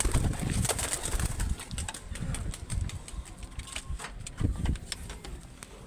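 Pigeons coo and flutter close by, with soft wing flaps and scattered tapping over a low rumble, and no one speaking.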